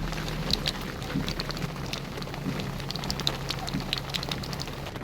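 Steady patter of rain drumming on a car, constant and close, with a low hum underneath and no talking.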